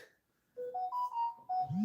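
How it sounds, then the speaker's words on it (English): A phone goes off nearby, a short sequence of rising electronic tones stepping upward and repeating, fairly loud against an otherwise quiet room during a live chat about General Hospital. "Is that your phone going off over there, Michelle?"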